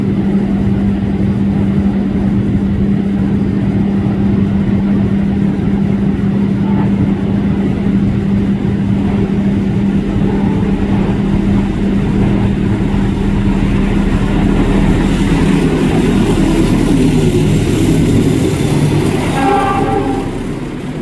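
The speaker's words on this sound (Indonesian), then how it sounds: "kita lihat kereta favorit saya Taksaka, si naga biru mau melintas di sini" The Taksaka, a blue Indonesian passenger train, rushes past close by in one continuous loud roar with a steady low rumble and rattling wheels, swelling near the end.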